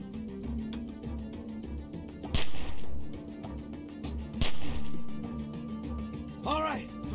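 Gunfire in The Walking Dead game comes as two loud sharp reports a couple of seconds apart over a tense, droning music bed, with a whooshing effect near the end.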